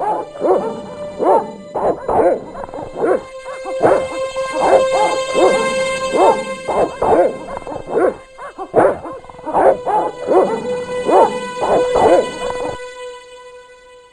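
Guard dogs bark in the point-and-click game Broken Sword: The Shadow of the Templars at the Villa de Vasconcellos, with repeated clusters of sharp barks and pauses over a steady, sustained background tone.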